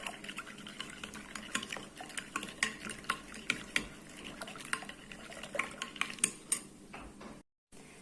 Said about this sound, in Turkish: Kıymalar bir yandan kavrulurken ben de maya ve şekerimi ılık suyla birlikte eritiyorum. Şöyle karıştırıyoruz.